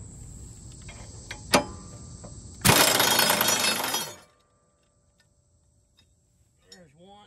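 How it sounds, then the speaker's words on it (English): An air impact wrench removes the blades on a 2012 Gravely zero-turn mower: one loud, harsh rattling burst of about a second and a half, preceded by a sharp clank, then near silence. "hook up the air hose with the impact wrench"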